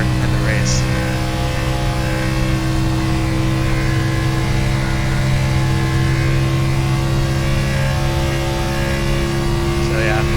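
A race car engine holds a steady, loud full-throttle drone in a racing video game, sustained without a break from start to finish.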